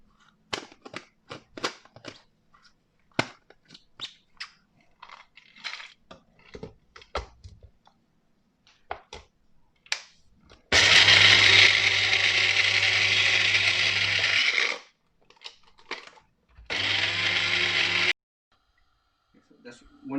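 Walnuts are ground in an electric kitchen grinder, heard as two loud, steady whirring bursts, a long one and then a shorter one, after a run of light clicks and taps.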